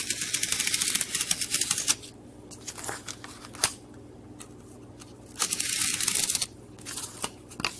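Paper being torn off along a folded crease during a craft project, several close, crisp ripping bursts separated by quieter pauses and small handling noises.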